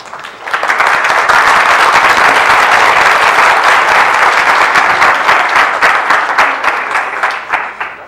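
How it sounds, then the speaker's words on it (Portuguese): An audience at a mathematics lecture session breaks into loud, dense applause that swells quickly and holds steady for several seconds before tapering slightly, with no speech over it. "Ainda bem que as palmas já foram dadas"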